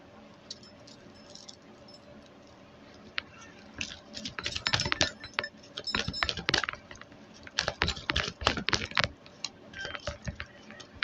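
Oracle cards being shuffled by hand, a run of quick, close crisp slaps and riffles that start softly and grow denser and louder in bursts, with no talking.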